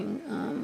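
Dogs growl in the background with a short, low, continuous rumble that wavers in pitch.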